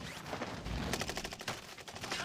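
Rapid gunfire from the battle royale shooter Call of Duty: Warzone, a dense run of repeated shots with no pauses, steady and fairly loud throughout, with no talking over it.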